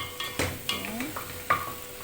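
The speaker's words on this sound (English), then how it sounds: "After adding our soy sauce, we are going to mix everything well." A spoon stirs cow tripe (matumbo) with soy sauce in a pot, giving wet scraping and clinking strokes with soft sizzling, close and moderately loud, with no talking.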